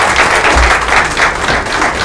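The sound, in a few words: audience applause welcoming a speaker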